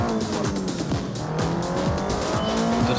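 Engine revving and tires squealing from a car driven in a city video game, with repeated skid chirps over a steady, loud motor drone and no talk.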